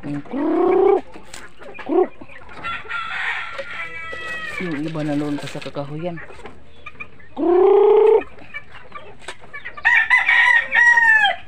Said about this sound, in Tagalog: magbigay tayo ng pagkain ng manok